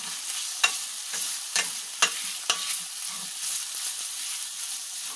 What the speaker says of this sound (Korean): 청양고추 3개, 작은 청양고추 넣고 대파를 넣고 또 볶아줄게요